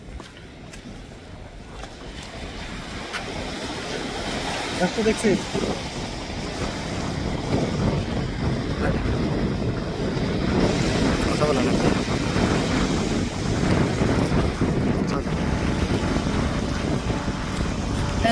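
A broad, steady rumble of trawler engines and wind at the open waterfront of Patenga port, Chattogram, builds over time, with a voice speaking briefly near the start.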